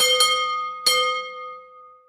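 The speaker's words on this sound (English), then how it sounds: "he still has the bell that is activated by people driving over the rubber hose" A gas station driveway bell, set off when a car rolls over the rubber hose, gives two bright dings about half a second apart, each ringing out and fading slowly in quiet surroundings.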